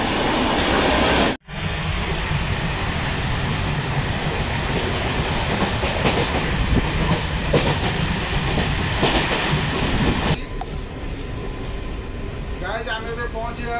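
A train rolls steadily on its rails as it pulls into a station near Ghatgaon, a loud continuous rumble and clatter that cuts out for a moment near the start, with people talking over it.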